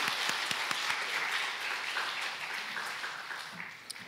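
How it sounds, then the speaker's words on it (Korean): Church congregation clapping in thanks after a worship song, a steady round of applause at moderate distance that slowly fades toward the end. "다시 한번 감사의 박수 보내겠습니다."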